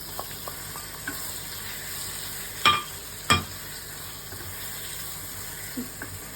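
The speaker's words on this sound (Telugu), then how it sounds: "మీడియం ఫ్లేమ్లో పెట్టి లైట్గా ఫ్రై చేసుకోవాలి" Prawns frying with onions in a pan over medium flame, a steady sizzle broken by two sharp clatters of a spoon against the pan and a few light taps.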